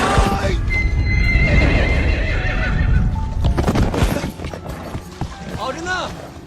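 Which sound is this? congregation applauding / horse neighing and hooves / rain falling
horse neighing and hooves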